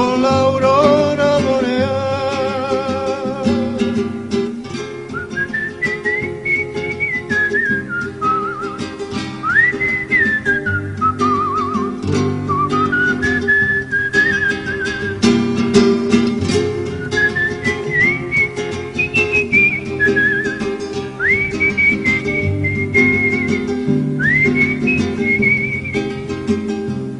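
Cheerful human whistling carries a bright, gliding melody over a steady backing song, continuous and close throughout.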